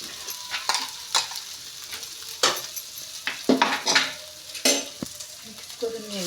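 Spice paste made without garlic is stirred and sautéed in a pan, giving bursts of frying sizzle and repeated loud scraping and clinking of a spoon against metal in an irregular rhythm.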